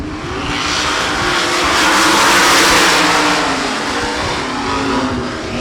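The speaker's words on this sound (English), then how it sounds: "We're ready to go for sprint car racing here at 34 Raceway" Sprint cars race at 34 Raceway, the pack's engines howling loud and close as they sweep past, a sustained roar that swells and fades slightly around the track.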